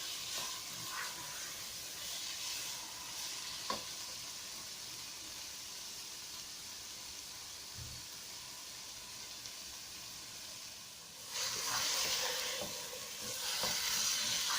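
Carrot halwa (gajar ka halwa, gajrela) roasting in ghee in a pan on full flame, a soft continuous hiss and sizzle with occasional stirring scrapes that grow louder toward the end, no talking.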